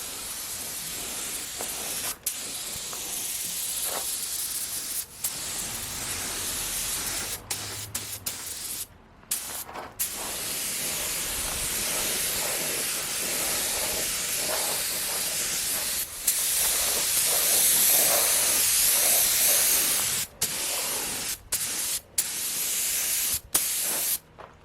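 Spray gun hissing paint onto hanging car subframe parts in long continuous bursts, broken by brief sharp stops between passes, loud and close with no talk.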